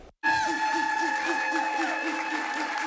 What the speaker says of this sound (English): Those cathartic cheers from Democrats